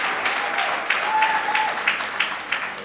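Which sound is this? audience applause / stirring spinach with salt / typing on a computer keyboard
audience applause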